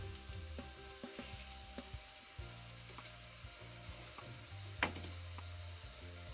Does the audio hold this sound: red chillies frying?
yes